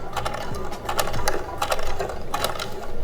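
A sewing machine backstitches a seam on a square bag, its needle chattering in quick rhythmic bursts close to the mic, with no talk over it.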